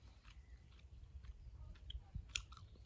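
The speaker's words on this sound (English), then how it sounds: "This takes me a long time to chew, and I can just chew and chew and chew it in my mouth" Korean dried squid is chewed close to the mic, giving soft, wet, rubbery chewing with scattered small clicks and one sharper crunch near the end, quiet and with no talking.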